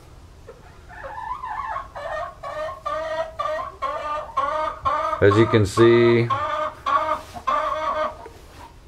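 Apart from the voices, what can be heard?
hens clucking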